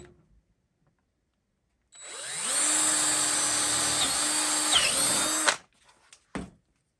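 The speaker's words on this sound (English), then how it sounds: "I'm going to drill the big ones first" A power drill whines up and bores large holes in Kydex steadily for a few seconds, its pitch dipping slightly under load, then stops, followed by a couple of clicks.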